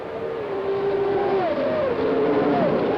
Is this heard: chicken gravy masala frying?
no